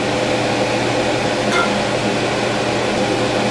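A PrimeWeld TIG225x TIG welds thin metal at 24 amps with the foot pedal held fully down, giving a steady, close, unbroken electric buzzing hiss with no pauses.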